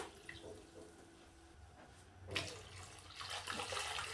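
Water poured into a pot of sweet potatoes ready for boiling, a quiet gushing splash in bursts near the end after soft handling noises, heard faintly and close.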